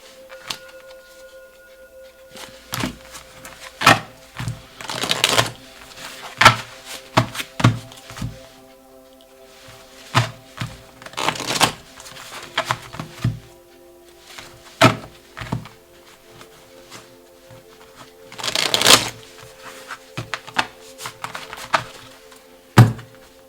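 Tarot cards being shuffled by hand on a table, a series of irregular soft slaps, riffles and taps coming in bursts with quiet gaps between, close and fairly dry.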